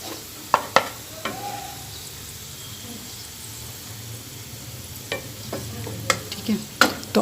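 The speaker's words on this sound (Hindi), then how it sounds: "प्याज को हम ब्राउन होने तक यानी अच्छा सा सुनहरा कलर होने तक फ्राई करेंगे" Onions frying to golden brown in a pan for chicken pulao give a steady, close sizzle, broken by sharp clicks and scrapes from stirring.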